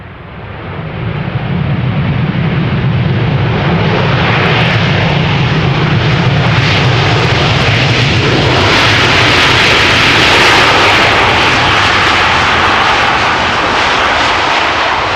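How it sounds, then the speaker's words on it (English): A seven-year-old Delta Airlines Airbus A350-900 jet, arriving from Atlanta, lands at Schiphol Airport with a loud, sustained engine roar and broad rushing whine that grows and holds close for the whole stretch, with no voices. "Delta Airlines flight 74 A350-900 arriving from Atlanta, Georgia."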